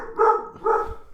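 A dog barks twice in quick succession, fairly close and clear, with a short pause between the two barks and no talking over them.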